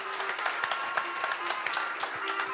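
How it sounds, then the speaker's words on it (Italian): Applause from a live audience at a coffee show competition in Siracusa, Italy: steady, moderately close clapping from a crowd with sharper individual claps popping out, and a few voices faintly mixed in. "un applauso"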